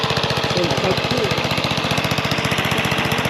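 Tractor engine running while towing an old trailer, a steady rhythmic low chugging that stays loud and close throughout.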